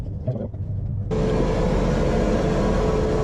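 A Chrysler 3.5 engine in a Chrysler Concorde starts and settles into a steady, loud idle while warming up after a radiator install, a continuous close rumble with no talk.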